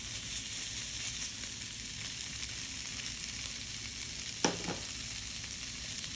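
Leftover veggie fajitas warm in a pan, giving a steady, faint sizzle and crackle throughout, with one brief clank of a utensil near the end and no talk.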